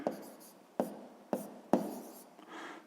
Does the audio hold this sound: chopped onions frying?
no